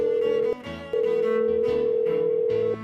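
A telephone call tone, steady and electronic, sounding in one short burst, a brief gap, then a longer unbroken stretch, with softer tones layered beneath.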